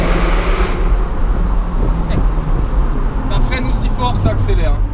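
An Alpine A110 sports car accelerating: a loud, steady engine drone fills the cabin throughout, rising slightly in pitch, with people talking over it.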